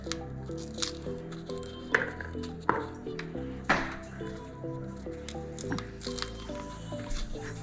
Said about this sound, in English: So let's go ahead and de-shell these beans and get after it.